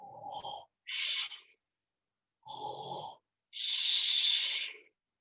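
A human voice imitates the snoring of a sleeping ogre during a children's story yoga session, four drawn-out breathy snorts and hisses separated by short silences, close and fairly loud.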